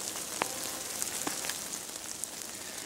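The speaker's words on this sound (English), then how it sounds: "We got some freezing rain last night, and now it's all melting off the trees." Meltwater from freezing rain dripping off trees outdoors, a steady soft patter of scattered drops with a few sharper, closer plinks standing out over continuous light hiss.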